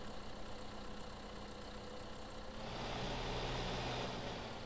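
A tractor engine in Farming Simulator 15 runs at a steady idle, a continuous mid-range rumble that grows louder and rougher partway through as the revs rise, with no talking.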